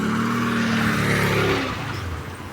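Cars driving past at a Kyiv autumn flea market, a close engine hum and road noise that swells and fades as a vehicle goes by.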